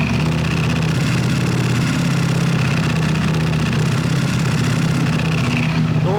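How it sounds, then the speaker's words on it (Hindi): A Ducati V4 SP2 motorcycle idles with a steady, loud, low engine hum, its dry clutch adding a constant rattly metallic texture throughout with no talking. "Just because it has dry clutch की साउंड बहुत ज़्यादा आती है, because there is no filtration."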